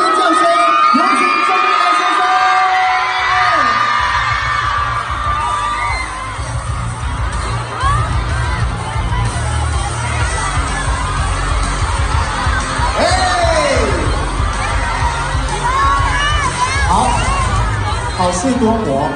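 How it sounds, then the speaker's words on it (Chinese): A crowd at a fan meet-up event in Hong Kong screams, cheers and whoops loudly and continuously, with shrill voices rising over a dense roar and clapping mixed in, very close and intense throughout. "现在用最热情的掌声跟尖叫声，有请。"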